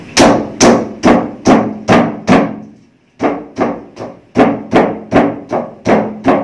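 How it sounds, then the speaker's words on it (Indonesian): Ingredients are pounded with a pestle until juice comes out, giving loud, close, regular dull thuds in two runs of about six and eight strikes with a brief pause between them. "kita tumbuk dengan tumbukan ini sampai mengeluarkan air"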